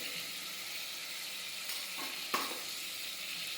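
Turmeric and cumin go into hot oil for a Gujarati potato curry, giving a steady, even sizzle throughout with one brief sharp spike partway through.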